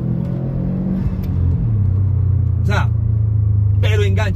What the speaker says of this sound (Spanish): Aquí vamos a unas 2500 revoluciones, voy a acelerarlo